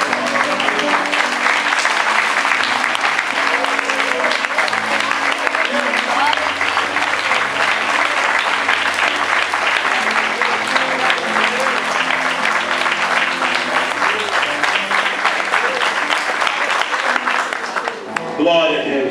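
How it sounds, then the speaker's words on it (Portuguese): A church congregation applauds loudly and steadily for nearly twenty seconds, a dense wash of clapping that stops abruptly near the end. "Aplauda ao Senhor nessa noite."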